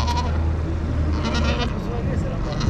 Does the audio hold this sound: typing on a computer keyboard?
no